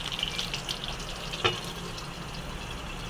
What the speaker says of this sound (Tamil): இப்போ நம்ம சிம்மில் வச்சுட்டு கொஞ்ச நேரம் எண்ணெய் பிரிஞ்சு வர்றதுக்கு இருக்கட்டும்